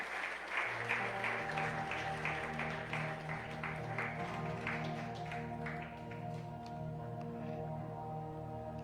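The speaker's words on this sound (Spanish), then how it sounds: "Dale una ofrenda de palmas al Rey." A church congregation clapping during worship, soft many-handed applause layered over sustained organ or keyboard chords, moderately distant and steady throughout.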